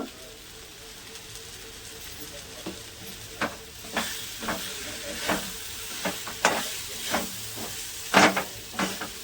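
Chilli powder, asafoetida and other spices stirred and heated in a pan for a pea kachori filling: a soft sizzle underneath, broken by repeated scraping strokes that grow sharper and more frequent toward the end.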